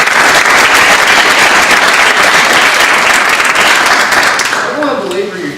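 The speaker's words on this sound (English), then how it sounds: "if we can have another round of applause for the panel" Loud, close round of audience applause for a panel at a Purple Line and College Park event, steady and dense for several seconds before tapering off as a voice starts talking.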